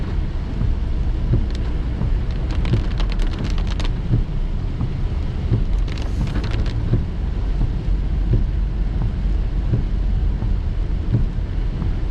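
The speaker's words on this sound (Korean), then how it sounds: "비가 많이 내리긴 하네요" Heavy summer monsoon rain drums on a car driving a lakeside road near Cheongpyeong Dam in Korea. It makes a loud, steady roar of rain and wind noise with scattered sharp spatters throughout.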